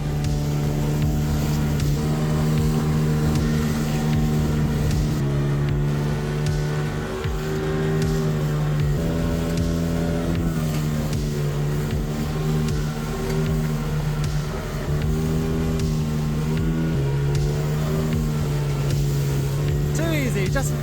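Outboard boat motor droning steadily offshore on the West Coast at sunset while heading out to cross the bar on an overnight bluefin tuna fishing trip, its pitch rising and falling as the throttle shifts over rushing water.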